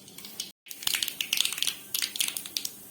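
Mustard seeds spluttering in hot oil in a kadai, a close burst of sharp crackling pops coming in irregular clusters after a brief silent gap.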